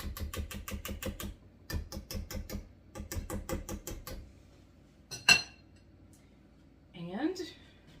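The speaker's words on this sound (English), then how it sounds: "let me clean my whisk out" A whisk rattled and tapped repeatedly against a metal bowl while being cleaned of banana bread batter, giving quick clinking bursts in uneven runs, then a sharp single clank and a brief scrape.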